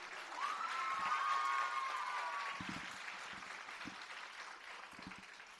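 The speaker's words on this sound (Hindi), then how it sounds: "ये ताली बजाने लायक बात है" Audience applause at a youth conclave talk in India, a steady wash of clapping that swells near the start and holds through the clip, with a faint whistle-like tone early and a few low thumps.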